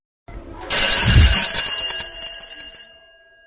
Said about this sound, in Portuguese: Primeira, alarme na escola.